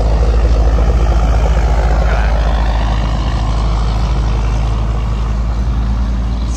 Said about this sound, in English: It's just a parade of rock trucks from different aggregate dealers.